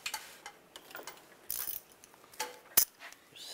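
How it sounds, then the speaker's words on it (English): A ratchet tightens a nut on a 2007-2013 Chevrolet Silverado 1500, heard as close, faint clicking bursts of the pawl separated by pauses, with one sharper metallic snap near the end; no one talks. "Put the nut on and we'll tighten that down"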